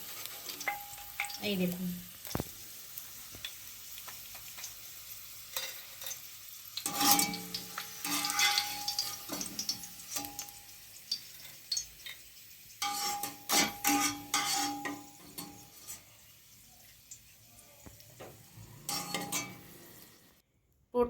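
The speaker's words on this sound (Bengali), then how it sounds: "দেখুন পুরো কটকটা করে ভেজে নিয়েছি, এখন আমি তুলে নিচ্ছি।" Homemade potato chips fried crisp in hot oil sizzle steadily while being lifted out, with intermittent scraping and clinks of a utensil against the pan and a brief spoken word.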